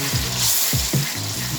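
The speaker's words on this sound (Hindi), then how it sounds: "हम इनकी थोड़ी सी बुनाई करेंगे टमाटर की" Tomatoes sizzling and frying in a pan while being stirred for a dhaba-style daal mash masala, steady close hiss with a few soft scraping strokes, no talking.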